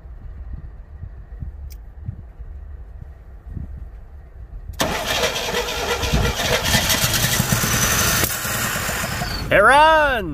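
A 1970 GMC utility body pickup that sat unused for 19 years cranks, fires and settles into a rough, loud run with a backfire through the carburetor, close up, with a voice briefly heard before it starts.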